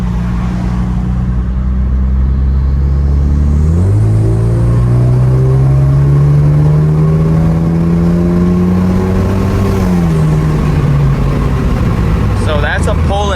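Hyundai Genesis Coupe 2.0 accelerating hard in automatic, loud engine drone rising in pitch through the gears with shift dips and a steady roar, close and continuous inside the car.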